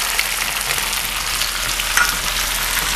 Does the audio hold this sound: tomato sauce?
yes